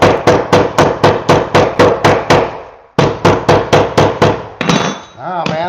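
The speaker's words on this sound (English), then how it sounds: "Just maybe need a bigger hammer for this one." Hammer driving nails into wood on a house project, a fast steady run of loud, close, sharp blows, a brief pause, then another burst of strikes ending in a ringing metallic scrape.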